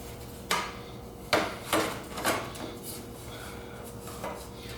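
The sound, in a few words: reinstalling MV Agusta F3 lower fairing panel with Allen bolts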